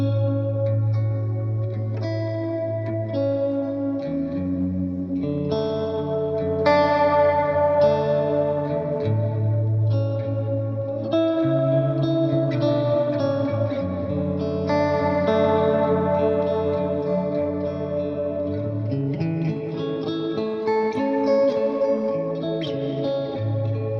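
Electric guitar played through a modulation pedal with lush chorus and layered reverb, sustained chords and single notes shimmering and washing together, alone without talk.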